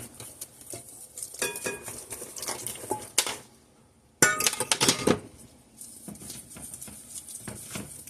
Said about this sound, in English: we want to start adding this wet to the dry. Mix really well.